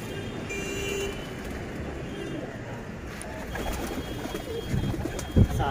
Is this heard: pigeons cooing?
yes